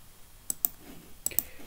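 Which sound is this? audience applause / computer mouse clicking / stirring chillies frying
computer mouse clicking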